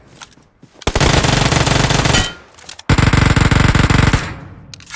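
Two long, loud bursts of rapid automatic gunfire in PUBG Mobile, each about a second and a half, separated by a short pause, with dense crackling shots close up and no talking.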